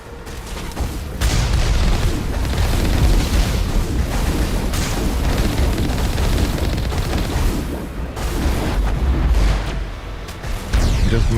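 Missile explosions in the video game Mass Effect, a dense, continuous barrage of booming blasts and rumbling impacts that stays loud and close almost throughout, with brief dips between heavy bursts.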